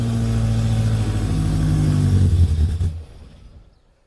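A Morris Minor engine runs loud and steady with a slight exhaust manifold blow, a rough low rumble with a faint puffing edge, then the engine cuts and the sound dies away.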